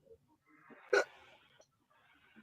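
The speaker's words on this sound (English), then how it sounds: "I got hiccups." A single sharp hiccup from a man, loud and close, with faint murmured voice and breathing around it in a quiet room.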